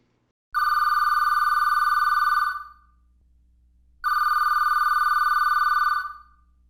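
A telephone rings in two loud, even bursts, each about two seconds of steady electronic trilling, separated by a short silence, close by and with no other sound.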